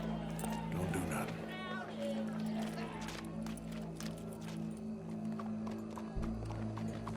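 Horse hooves clip-clop in the video game Red Dead Redemption 2, with a snort or whinny, steady against a constant background hum and crowd ambience while people talk.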